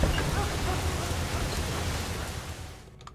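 Steady, dense rain falls in a video game, a loud broadband hiss with a low rumble that gradually fades toward the end, leaving near silence.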